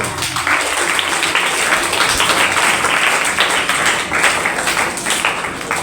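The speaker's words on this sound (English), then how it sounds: "Give a round of applause for David" An audience at a school debate competition applauds, a dense, steady wash of clapping that holds evenly from start to finish with no pause.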